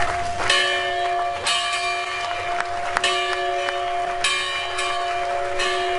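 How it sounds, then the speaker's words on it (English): The First Baptist Church bell of Williamsburg, Virginia rings in repeated loud, resonant strikes about once a second, each leaving a long humming tone, at a museum opening in Washington, D.C. "ringing a bell from First Baptist Church in Williamsburg, Virginia, declaring the museum open"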